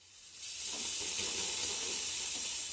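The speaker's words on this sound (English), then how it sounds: "let me show you the steam again" Steam wand on a Gemilai espresso machine hissing steadily and loudly after a short start, a continuous bright, airy rush with no voices.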